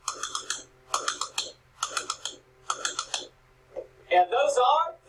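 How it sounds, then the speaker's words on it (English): Tap shoes strike the floor in four quick rhythmic groups of double shuffle steps, crisp and close, followed by a faster flurry of taps at the end. "And those are double shuffles."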